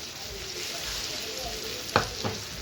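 Jalpai olive pickle cooking in a pan with sugar and jaggery, stirred: a soft, steady sizzle close by, with a couple of sharp scrapes or knocks of the spoon near the end and no talking.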